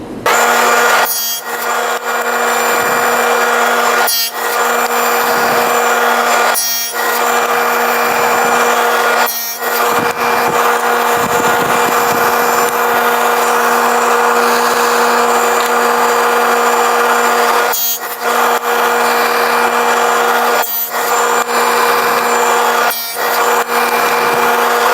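A power saw cuts wood for a small decorative storage box, a steady loud whine running throughout, broken by brief regular bursts of sharper cutting noise every few seconds.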